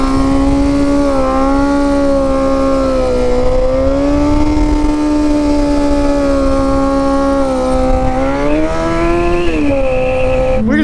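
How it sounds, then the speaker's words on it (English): A motorcycle engine drones loud and close during a wheelie, its pitch rising and falling with throttle changes and climbing sharply near the end. "Start this video out right with a wheelie."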